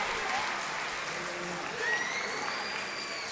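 Crowd applause fills an arena at a Koshiki karate World Cup fight in London, Ontario, a steady sustained clapping with a commentator's voice heard over it.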